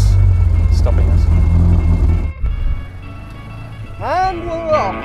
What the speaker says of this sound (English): There's actual cars stopping us.